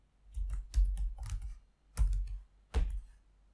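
Quick bursts of computer keyboard typing while a Gmail signature name is entered, close and crisp keystrokes in short clusters with brief pauses between them, no voices.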